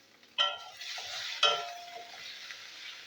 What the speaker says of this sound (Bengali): তো আলুটা আমি ভেজে নিচ্ছি।